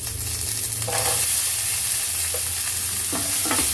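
Onions sizzle steadily in hot oil while a spoon scrapes and stirs the pan a few times, close up and without talk.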